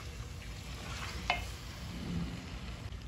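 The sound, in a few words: masala and meat frying in oil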